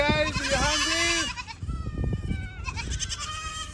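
Hungry baby goats on a goat farm let out loud, close bleats, one long wavering cry followed by more overlapping calls, with no talk over them.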